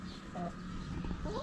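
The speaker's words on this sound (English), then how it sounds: "we got to let the chickens out so they can roam freely" Backyard chickens let out of their coop give soft, faint clucks and short calls over a low background, with a person talking nearby.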